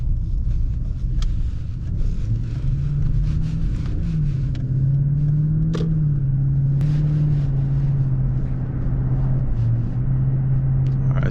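Cabin sound inside a 2016 Lexus LS460 cruising on the road at regular speed: a quiet, steady low rumble of road and engine noise with slight shifts in pitch throughout.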